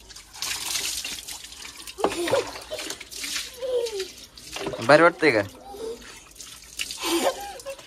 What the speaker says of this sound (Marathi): गार पाण्याने घालते आंघोळ त्याला